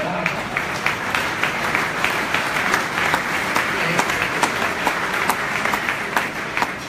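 An audience at a business club talk breaks into steady, sustained applause, a dense wash of many hands clapping throughout, with a voice speaking over it.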